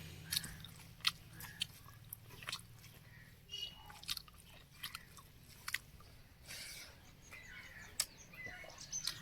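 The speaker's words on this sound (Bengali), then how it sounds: "আচ্ছা এবার মাছটা দিয়ে খাই" Close, wet chewing of rice with fish curry, with irregular crunchy bites and mouth sounds throughout, while birds chirp faintly in the background and no one talks.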